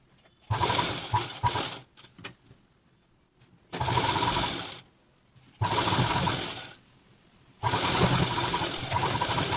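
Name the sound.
sewing machine stitching fabric for palazzo pants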